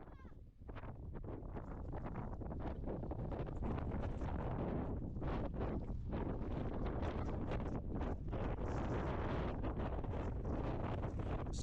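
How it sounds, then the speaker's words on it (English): Strong wind blasts across the microphone on a cloudy-day hike in Lancashire, a loud, constant roaring buffet with gusting surges and rumble, and no talking. "It's not muddy, but it's really windy."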